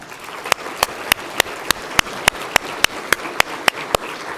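Clapping at a Los Angeles business council housing and transportation event, sharp, evenly spaced claps about three per second, steady and fairly close, over a soft murmur of many more hands.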